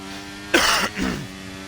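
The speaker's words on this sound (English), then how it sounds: "Sorry about the coughing, guys." A single harsh throat clear followed quickly by a short rougher cough, close up, over a faint steady electrical hum.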